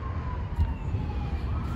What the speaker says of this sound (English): Oh, sheriff's ambulance.